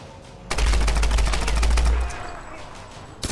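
Rapid automatic gunfire in the video game Tomb Raider, a loud sustained burst of shots with heavy low thump lasting about a second and a half, then trailing off into quieter game ambience before another shot at the end.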